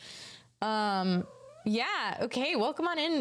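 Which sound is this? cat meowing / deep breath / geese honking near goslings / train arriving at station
cat meowing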